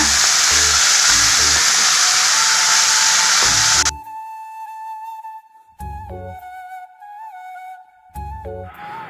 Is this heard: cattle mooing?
no